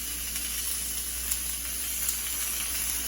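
Onions sizzle in olive oil on a hot griddle for cheeseburgers, a steady, even frying hiss with a low hum underneath and no talking.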